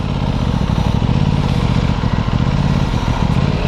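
An Aprilia SR-GT 200 motorcycle engine rumbles steadily and loudly up close, a dense continuous drone without pause.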